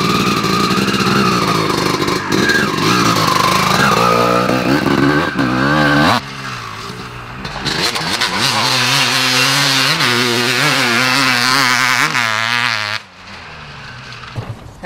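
A 2002 Honda CR250 two-stroke motocross bike, a Ricky Carmichael factory edition, runs loud and close, revving hard and high, then dropping to a buzzing idle and revving up again before cutting lower near the end.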